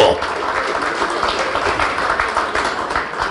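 Audience applause at a stand-up comedy show, a steady dense wash of clapping with some crowd noise and voices mixed in throughout.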